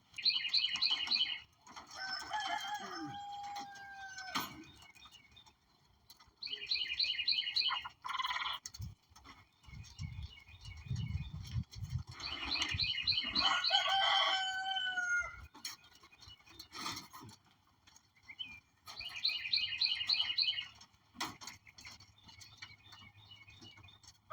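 Quail flap their wings in brief fluttering bursts while being caught by hand, mixed with repeated high chirps and scuffling in a coop, close by with no talk.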